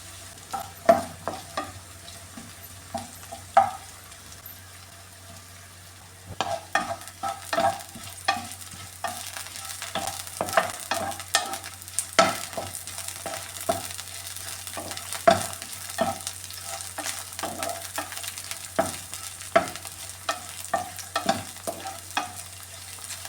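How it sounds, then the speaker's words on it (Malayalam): Ivy gourd (kovakka) pieces fry in a pan for pachadi, giving a steady close sizzle broken by frequent scraping stirs of a spoon against the pan, with no talking. "കോവയ്ക്ക എല്ലാം ഒന്ന് വെന്തിട്ടുണ്ട് ഇനി ഇതൊന്ന് ഫ്രൈ ചെയ്തെടുക്കാമേ"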